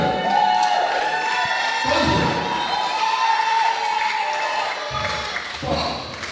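Wrestling crowd at a championship match keeps up a loud, steady roar of cheering and shouting, with thuds and slams breaking through and a voice carrying over the noise.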